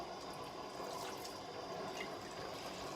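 Tap water running into a sink while thawing food is rinsed, a soft, continuous splashing hiss that stays even throughout.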